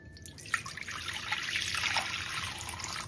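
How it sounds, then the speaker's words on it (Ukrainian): Warm water, not hot, pours into a mixing bowl to start the sponge for lenten cabbage pies. A steady close trickle runs alone for about three seconds. "В мисці з'єднуємо воду."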